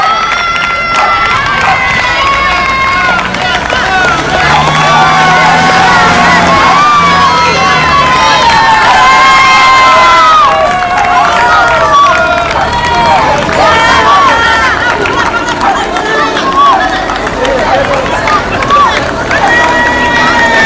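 A crowd cheers and shouts as runners arrive at a charity race for organ donation in Seignelay, a loud and continuous mix of voices, whistles and calls close by.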